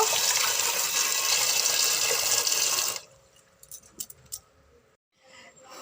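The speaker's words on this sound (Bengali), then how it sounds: "চাল ধুয়ে নিচ্ছি চালটা ধুয়ে নিয়ে ভাতটা বসিয়ে দিলে" Rice being washed in water, with a loud continuous rush of running water for about three seconds, then stopping, followed by quieter scattered splashes and clinks.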